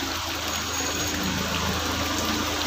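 Rainwater gushing and welling upward during a monsoon downpour in a city street, a steady, dense wash of churning water that stays constant and fairly close throughout.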